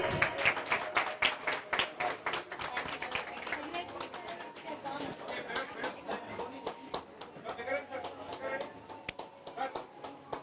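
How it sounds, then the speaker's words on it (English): Audience applause at the CIAN-Hyderabad 10th convocation, a dense burst of clapping that starts strong and slowly thins into scattered claps, with some voices murmuring underneath. "Can we please give a huge round of applause for them?"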